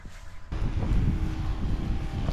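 Steady gusting wind rumbles against the microphone in a raspberry patch, growing louder after a quieter start and continuing throughout.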